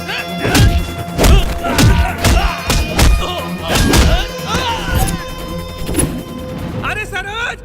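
A movie fight scene with someone beaten using a rod, heard as a rapid series of loud, close thuds and smacks, with shouting voices and dramatic music underneath.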